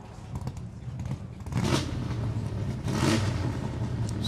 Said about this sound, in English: 7-litre V8 NASCAR, the Ford Galaxy